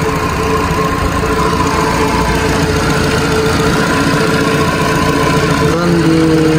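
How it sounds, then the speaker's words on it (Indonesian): A Nissan Grand Livina L10 engine idles steadily and smoothly up close after a valve cover gasket replacement, a constant even hum with a faint high whine, running alone without speech. "Dan ini suara mesin sudah lebih halus karena udah di reset kembali ke"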